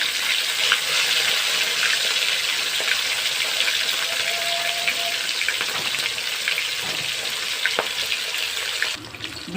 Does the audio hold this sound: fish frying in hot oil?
yes